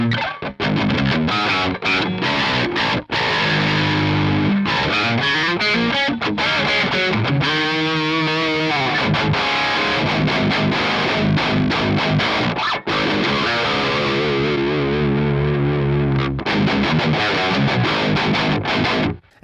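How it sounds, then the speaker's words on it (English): Electric guitar through a Revv Generator amplifier with the gain turned fully down, played as loud, dense, continuous chords and riffs with a gritty edge, heard close and alone with no talking. "Gain is all the way down. I have absolutely no gain."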